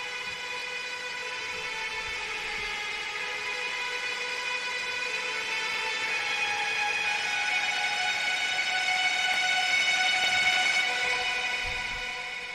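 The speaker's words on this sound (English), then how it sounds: "That is the tremolo guitar preset with some OTT and again some Valhalla shimmer and my stereo enhancer." Tremolo-picked guitar preset processed with OTT compression, Valhalla shimmer reverb and a stereo enhancer. It forms a sustained, bright, washing wall of layered tones that swells gently and fades near the end, with no voices.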